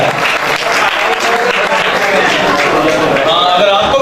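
An audience breaks into loud, continuous applause at a stage event, with dense clapping close by and crowd noise mixed in throughout.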